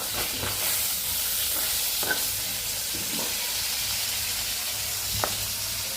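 Fish heads fry in a pan with a continuous bright sizzle and hiss, broken by a few soft stirring clicks and scrapes, close by and without talk.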